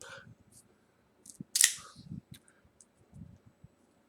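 Cigar cutter snipping the cap of a CAO Consigliere Associate cigar, a single crisp close snap amid quiet low speech.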